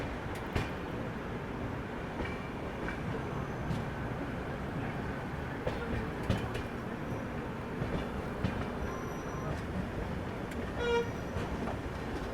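A Lucknow Double Decker Express waits to depart from a station platform near Ghaziabad, with a steady rumble of rail noise, a faint horn-like tone and scattered clanks under constant background hum.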